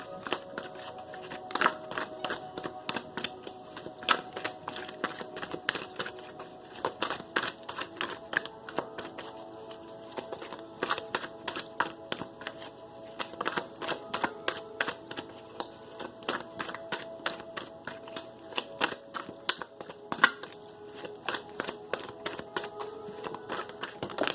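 Tarot cards are riffled and tapped in a rapid, steady stream of crisp clicks and flicks, close by, continuing throughout without speech.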